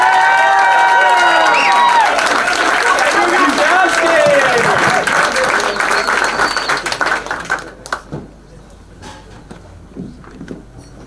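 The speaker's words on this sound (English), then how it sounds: "a huge round of applause for Daniel Grochowski." An audience at a school music recital breaks into loud applause and cheering for a jazz pianist, a dense roar that gradually thins to scattered claps, with people talking over it.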